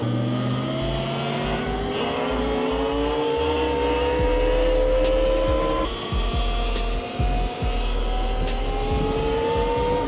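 A REXX T01 72V electric bike cruises along a street with a steady, loud electric motor whine that rises in pitch, broken by rough road rumble and bumps, with no talking.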